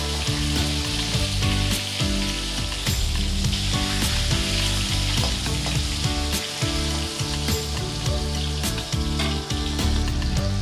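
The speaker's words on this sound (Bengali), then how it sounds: "এক পিঠ ভেজে নেওয়া হয়ে গেছে এবার আমি উল্টে আর এক পিঠ ভেজে নিলাম" Pomfret fish fry in oil in a pan, a loud, dense, steady sizzle heard up close with scattered crackles and soft pops throughout and no speech.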